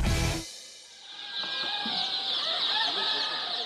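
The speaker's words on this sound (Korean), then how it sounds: "농장에서 키우고 있는 백봉 오골개는 약 10만 마리." White Silkie chickens on a large farm flock of about 100,000 birds, clucking and chirping in a steady, dense chorus after a brief louder noise at the start.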